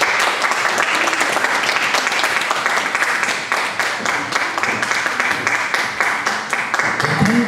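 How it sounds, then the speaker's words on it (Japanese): A concert audience applauds in a long, steady, dense round of clapping, loud and even throughout, with a faint voice surfacing near the end. "拍手でどうぞ"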